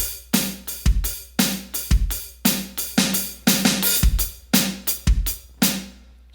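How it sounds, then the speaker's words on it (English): Drum kit fill of bass drum, snare hits and a drag, struck in a quick uneven rhythm of about a dozen sharp, close, loud hits with ringing decays. "So you have bass and snare and snare and snare, snare, drag, bass."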